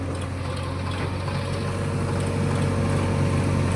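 A farm tractor that has been hauling trolley loads runs with a constant low, rumbling engine drone, fairly close and steady throughout, with no voices.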